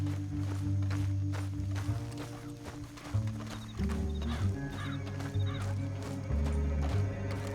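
Horses neigh and hooves clip-clop amid a dense, steady Red Dead Redemption 2 game soundscape with low rumbling music, continuous and fairly loud throughout.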